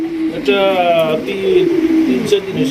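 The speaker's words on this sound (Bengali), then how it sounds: "একদম আগুন চোখের রেসার কবুতর ভাই" Racing pigeons in a loft with eggs give soft, rolling coos that come close and fairly loud, several phrases over a few seconds, while people talk nearby.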